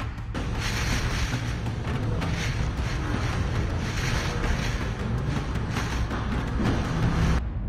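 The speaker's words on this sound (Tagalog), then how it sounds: "Makikita sa labas ng simbahan ang lakas ng hangin at ulan." Typhoon-strength wind roars steadily outdoors with rain in Batanes, a dense continuous rush and gusty buffeting against the microphone, loud throughout with no voices.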